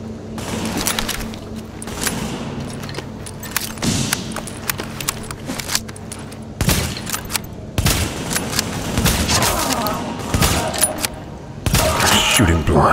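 Gunfire in Tom Clancy's The Division video game rattles in repeated loud bursts and single shots, some rapid like automatic fire, with thuds and clatter between volleys across the whole stretch.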